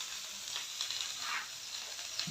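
Grasshoppers fry in hot oil with salt, giving a close, continuous crackling sizzle with small pops and no talking.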